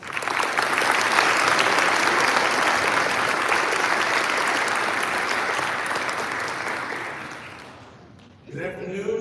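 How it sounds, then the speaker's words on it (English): Audience applause at a commencement ceremony as a speaker is welcomed to the stage, a loud, sustained wash of clapping that fades out before a voice begins speaking. "Please join me in a round of applause and welcome him to the stage."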